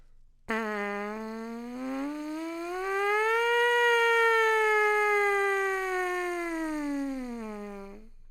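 A long buzzing brass lip buzz, lips firmed and relaxed, that slides up in pitch, holds, then falls back down, loud and alone for several seconds.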